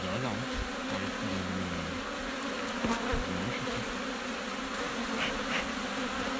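Honey bees on comb frames in an open beehive make a dense, continuous buzzing drone, loud and close, with individual bees' wingbeats rising and falling over the steady swarm hum.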